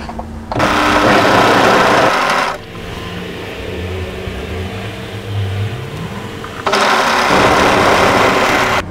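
An overlocker stitches a hoodie sleeve and side seam in two loud, fast-running bursts, with a quieter, lower hum between them and no talking.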